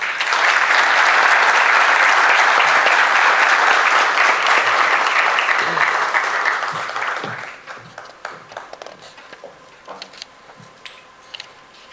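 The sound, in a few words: audience applause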